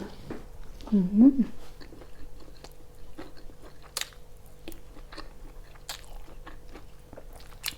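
Close chewing and biting of a home meal of rice with fish and chili dip, with a crunchy burst near the start and soft, irregular mouth sounds after it, mixed with a brief voice.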